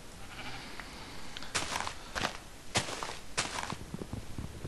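Minecraft cow mooing in a series of short, moderately loud calls, about four spaced bursts over soft background noise and footsteps.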